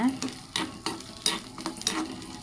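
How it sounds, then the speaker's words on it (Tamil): Garlic frying in oil in a pan for mango sambal, a steady crackling sizzle broken by rhythmic scraping stirs about every half second, close and fairly quiet. "எண்ணெயில் பூண்டை நல்லா ஃப்ரை பண்ணி எடுத்துடலாம்"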